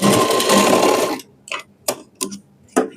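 A sewing machine stitching a blouse runs in a fast continuous whir for about a second, then stops and gives a few short separate bursts of stitching, close and loud.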